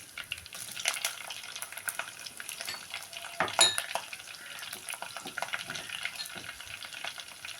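Curry leaves and split green chillies fry in hot oil for a homestyle chicken curry, giving a steady close sizzle with scattered crackles and occasional clinks of a stirring utensil against the pan; no one speaks.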